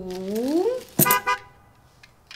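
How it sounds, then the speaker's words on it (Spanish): A toy red car's horn toots once as a short, bright, close honk after a gliding tone, then fades into near silence. "Es un carro rojo."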